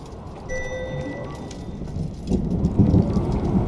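A thunderstorm with rain rolls through in the video game Return to Grace, a low rumble swelling and growing louder in the last second and a half over a steady hiss of rainfall, with no talking.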